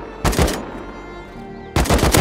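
Two loud, close bursts of rapid automatic AK rifle fire from the video game Rust, each about a third of a second long, separated by a brief lull.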